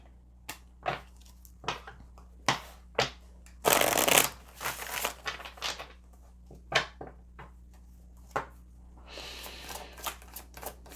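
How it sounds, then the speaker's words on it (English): Oracle cards being shuffled during a card reading: a series of crisp riffling bursts and taps, close and fairly loud, with one long dense riffle partway through and another at the end, no voices. "Let's pull some oracle cards here."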